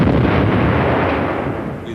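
The Dora super-heavy railway gun firing a 7-ton shell on a cordite charge, heard as one heavy, rumbling boom that fills the moment and slowly fades away.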